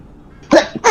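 A single close, loud sneeze bursts out in two quick explosive parts after a short quiet breathy lead-in.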